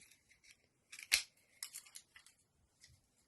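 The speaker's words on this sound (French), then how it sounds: "on va découper deux ronds dans le papier jaune" Scissors cutting circles out of yellow paper for a punch-art bee craft, a few crisp close snips in an irregular rhythm, one sharp and louder, with quiet pauses between.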